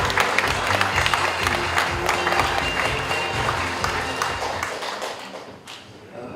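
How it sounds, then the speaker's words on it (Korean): Audience applause at a Korean book launch celebration for a novel, a room of people clapping warmly for several seconds before it thins out and fades near the end. "자, 박수로."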